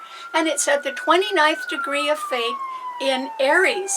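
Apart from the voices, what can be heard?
sirens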